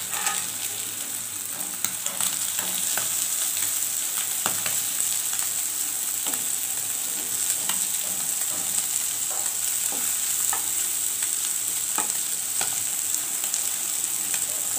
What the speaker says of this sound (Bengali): পুঁটি মাছগুলো ভেজে নিব।